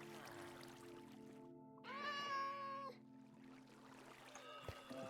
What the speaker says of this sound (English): There's a cat in our boat.